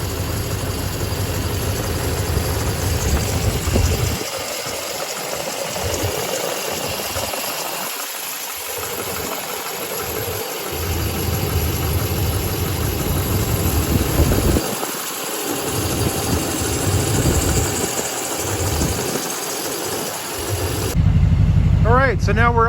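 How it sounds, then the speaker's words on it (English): 2007 Chevrolet Silverado 2500HD 4WD long bed with a turbo diesel engine idling steadily, a low continuous rumble running throughout with people talking over it at moments. "turbo diesel sounds. Nothing abnormal, no knocking or pinging."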